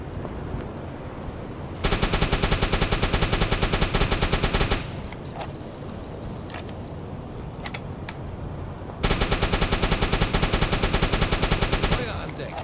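Deck gun of a Type VIIC U-boat firing in the UBOAT game, a Mediterranean troop-escort engagement in 1941: two loud, dense bursts of rapid repeated shots separated by a rumbling lull, with a faint voice.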